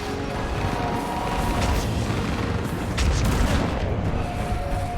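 Continuous, dense battlefield noise of booming artillery fire support and gunfire in the Mass Effect fall of Thessia, with heavier explosive impacts cutting through a loud, steady roar.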